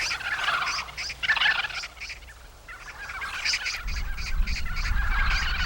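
Cinereous vultures in a large flock of around 250 crowd onto food in Jangdan-myeon, Korea, giving harsh, rasping, gobbling calls in overlapping bursts. A low rumble builds toward the end, with no voices.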